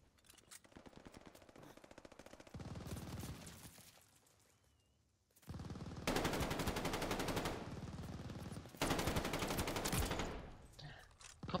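Automatic gunfire in Call of Duty: Vanguard comes in loud, sustained bursts separated by brief pauses, with a quieter stretch of rapid shots early on, heard alone without talk.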